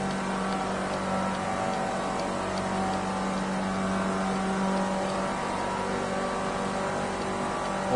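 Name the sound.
race car engines in the video game Project Cars 2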